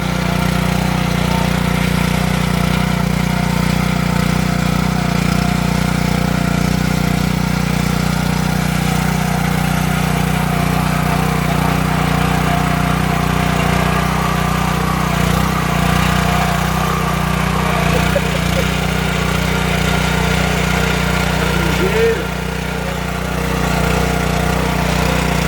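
A tractor engine runs steadily and loudly nearby, a constant low droning rumble that does not let up.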